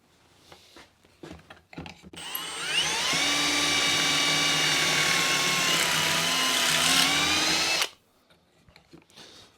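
Power drill boring pocket holes in wood for a fold-down bench vise, one sustained loud whine of about five seconds with pitch wavering as the bit cuts, set between quieter shop clatter.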